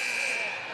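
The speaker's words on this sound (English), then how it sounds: "Almost got it at the buzzer." A basketball game buzzer at a high school girls' game gives one sustained, loud electronic tone lasting the whole short moment, steady and unbroken over crowd noise.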